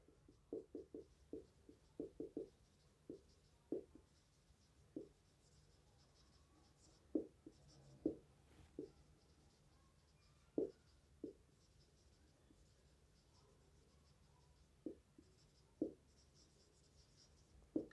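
Marker or chalk writing on a board during a physics lesson: faint, sparse scratchy strokes in short clusters and single taps, close by in a quiet room, with no talking.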